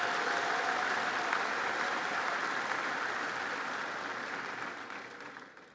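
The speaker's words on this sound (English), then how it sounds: "How about another round of applause for our wonderful choir" An audience at a high school graduation ceremony applauds for the choir, dense sustained clapping from a large crowd that slowly fades toward the end.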